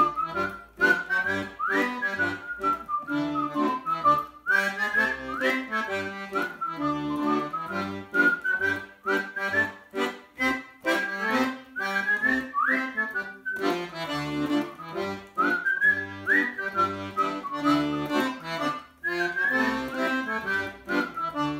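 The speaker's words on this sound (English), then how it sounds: "as you can hear, I'm whistling along" Someone whistles a bright, lilting melody along with steady rhythmic music, the whistle riding clearly above the accompaniment throughout.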